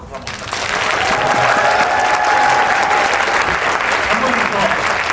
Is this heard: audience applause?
yes